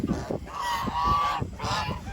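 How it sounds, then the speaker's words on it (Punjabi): Domestic ducks loudly honk and quack in repeated bursts, close by and rising and falling across the moment. "ਬਤਖਾਂ ਛੱਡ ਦੇ"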